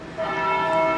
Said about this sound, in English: So, well, there's the bell.